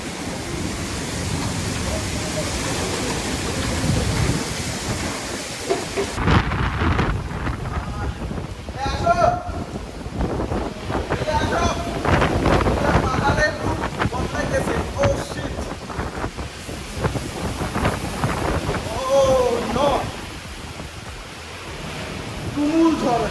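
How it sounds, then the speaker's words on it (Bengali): Fierce storm wind and heavy rain roar steadily during a hill trip between Rangamati and Sajek, loud and continuous throughout, with people talking and exclaiming over the noise. "আসছে ভাই তুমুল ঝড়"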